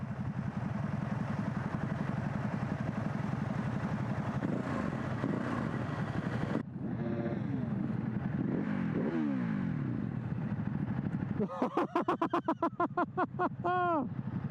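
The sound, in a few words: motorcycle engine revving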